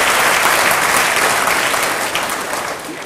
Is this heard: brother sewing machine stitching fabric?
no